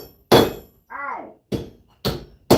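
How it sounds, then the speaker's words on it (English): Hammer blows knock slag off metal on an anvil during a copper pour: four sharp, loud metallic strikes, with a brief voiced exclamation between the first and second. "let me hammer some of that off. I don't want any slag going in there."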